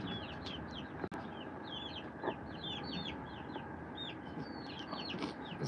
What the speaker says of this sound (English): You want to come see the chickens?